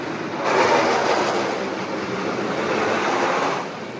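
Steady rumbling rush of a mine train roller coaster rolling along its track at Six Flags Great Adventure, a continuous broadband roar that swells and holds for a few seconds without voices.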